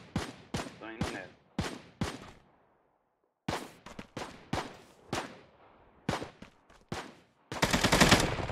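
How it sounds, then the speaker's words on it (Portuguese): Bursts of gunfire in the mobile battle-royale shooter Knives Out, several separate sharp volleys with short gaps, then a dense sustained rattle of automatic fire at the end, fairly close and loud with no talking. "Tem um cara nos prédios atirando no Vitor."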